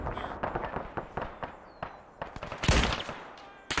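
Gunfire in the video game Arma 3 cracks out in scattered shots at a distance, then a closer, louder burst of several rapid shots, with faint rumbling between them.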